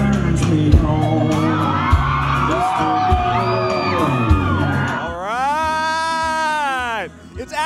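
An excited crowd at a country concert cheers continuously with shouts and whoops, ending in one long, loud, wavering whoop close by before it cuts off.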